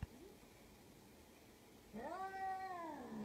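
A cat lets out a short meow at the start, then a longer, drawn-out, whiny meow near the end, both faint and close in a quiet room.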